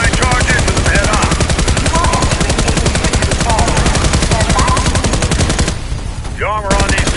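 Cobra automated turrets in the shooter game Warface fire steady, loud rapid bursts of automatic gunfire throughout, broken by a short lull near the end before firing resumes.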